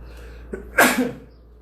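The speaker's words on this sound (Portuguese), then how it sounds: "Só um minutinho que eu vou ter que espirrar." A single loud, close sneeze, preceded by a short inhaling catch, then fading to quiet.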